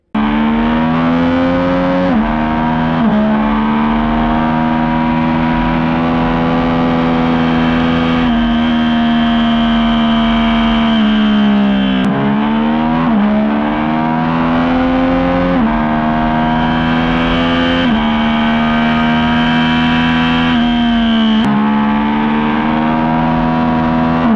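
A 2024 Yamaha MT-09 motorcycle held at high RPM on a racetrack, a loud, continuous, buzzy engine drone whose pitch climbs and falls across several shifts, heard alone without speech.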